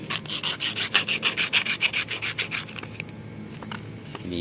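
Sandpaper rubs by hand on a small Mitsubishi Adventure power-window part in quick, even back-and-forth rasping strokes, close and fairly loud, then slows to a few scattered scrapes.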